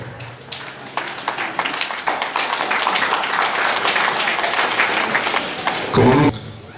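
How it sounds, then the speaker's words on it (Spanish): Applause from an outdoor festival crowd for the San Jerónimo Tlacochahuaya feather dance (Danza de la Pluma), in Oaxaca: a steady, dense wash of clapping that swells and holds for several seconds, then cuts off after a brief louder burst. "vamos a brindarle fuertes aplausos a la danza de pluma de San Jerónimo,"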